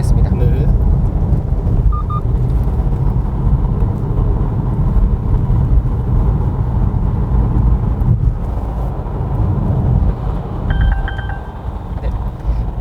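Volvo S60 speeding up under driver throttle, a steady loud road and engine drone with heavy low rumble and wind noise from inside the cabin, brief warning chimes cutting in near the end.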